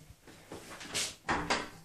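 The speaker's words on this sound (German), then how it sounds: "Und dann geht die Tür zu?" A door swings shut in a house, a few soft thuds and knocks followed by two firmer bumps as it closes, near and moderately loud.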